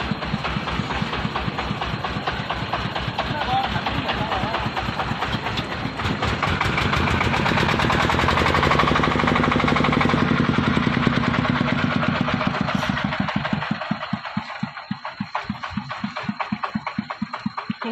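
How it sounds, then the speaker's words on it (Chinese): A tractor engine runs steadily after the vehicle was pulled out of mud on a rain-soaked rural road near tobacco fields in Gasa town, Yunnan. It gives a loud, rhythmic low chugging that swells in the middle and settles back toward the end. "你看这张拖拉机这里，下雨天路不好，看进去了，刚刚把它拖出来"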